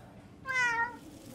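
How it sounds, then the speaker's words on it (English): A single short, fairly faint cat meow rises and falls over a quiet background, heard alone with no talk. "I saved this kitty for you."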